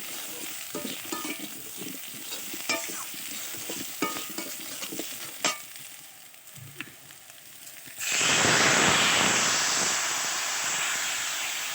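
Turmeric and chilli powder masala fries in a pan for a parshe fish and taro curry, starting with scattered stirring clicks over a low sizzle, then bursting into a loud, steady hiss of steam that holds to the end.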